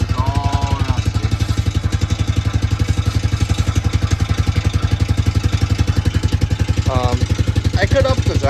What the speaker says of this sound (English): just slowly letting the 4-wheeler go and freeing up the shaft because it's all rusty